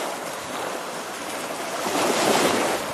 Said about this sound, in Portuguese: Aqui o barulho de águas, porque tem ondas hoje